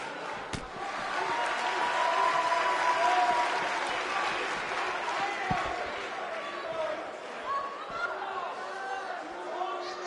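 A wrestling arena crowd in WWE 2K19 roars and applauds throughout, a dense, sustained wall of cheering with scattered whistles and a few sharp slams or thuds underneath.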